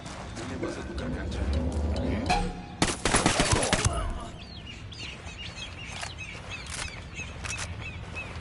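Submachine gun bursts in Ghost Recon Wildlands: a dense, loud volley of rapid shots near the start, a sharp crack a few seconds in, then quieter scattered shots against outdoor bird chirps and faint voices.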